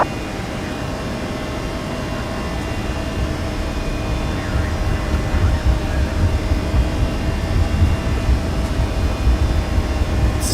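A ToLiSs A320 rolls for takeoff from Osaka-Kansai in the X-Plane 12 flight simulator. A steady, dense jet-engine roar with a deep low rumble builds slightly as the roll continues.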